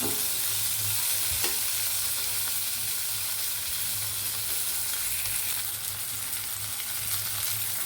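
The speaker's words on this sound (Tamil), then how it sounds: "எல்லாம் நல்லா வதங்கட்டும்." Bitter gourd kuzhambu ingredients sautéing in a pan, a steady close sizzle with occasional stirring scrapes running throughout without talk.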